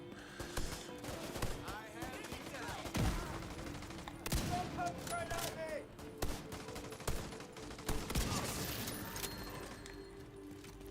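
TAC 50 sniper rifle shots in the video game The Division 2, a few sharp reports standing out from a dense, busy gunfire soundscape with other weapons and game effects layered throughout.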